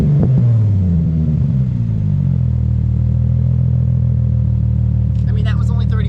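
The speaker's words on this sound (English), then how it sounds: "Let's give it a few revs," A warm Nissan 350Z with the HR engine and a lit check-engine light revs up to around 3,500 rpm, a loud, steady low engine drone with rising harmonics, while someone talks briefly near the end.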